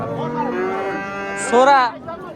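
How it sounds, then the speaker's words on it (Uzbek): A black ox at the Boysun livestock market in Surxondaryo, Uzbekistan, gives one long, low moo that rises and swells toward the end, loud and close, with no talking. "Mana bu yerda qora ho'kiz turibdi."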